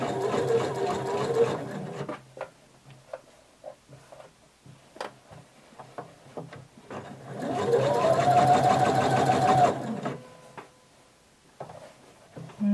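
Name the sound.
sewing machine sewing a maxi dress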